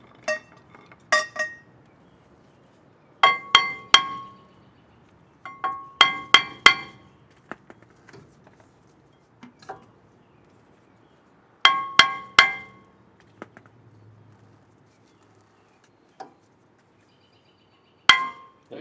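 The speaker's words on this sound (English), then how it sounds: "Hit it with a hammer, buddy." Sharp metallic clanks come in short bursts of two or three strikes, separated by quiet pauses, as a hammer knocks a stuck brake rotor off a Toyota Tacoma nearby.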